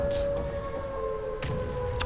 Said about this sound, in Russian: А сирена играет музыку поражения.